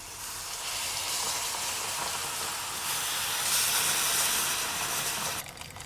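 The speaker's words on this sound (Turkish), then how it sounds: "Şimdi artık kaynar suyumu ilave ediyorum." Boiling water, about three litres, pouring into a pot holding chicken, potatoes and carrots: a steady, dense rushing splash that holds for several seconds, swells slightly, then cuts off near the end.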